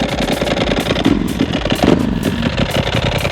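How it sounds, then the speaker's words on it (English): Ducati 999 motorcycle engine running loud and steady with a rattling dry clutch clatter layered over the low mechanical drone, close and continuous throughout. "Clutch is nice and loud."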